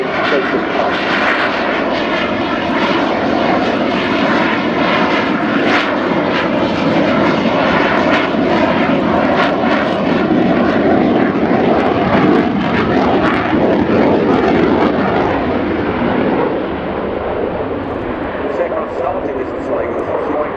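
A French Air Force Rafale C jet roars through a flying display at RIAT 2018, its loud, continuous engine thunder swelling and holding for about twenty seconds before easing slightly, with voices heard over it.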